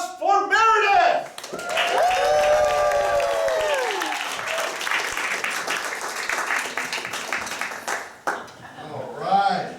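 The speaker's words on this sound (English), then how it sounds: "give a big round of applause for Meredith" A crowd at a live improvised game show claps and cheers to welcome the bachelorette contestant. Loud whoops and shouting voices open and close the round, with dense, close clapping filling the middle.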